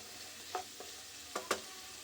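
Chopped carrots and winter vegetables fry lightly together in a pan for a khichdi, a faint soft sizzle broken by a few sharp utensil clicks from stirring.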